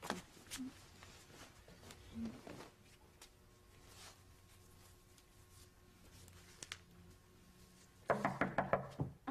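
Several sharp knocks on a door, sparse and fairly faint amid quiet indoor background, then a louder burst of activity near the end with a voice.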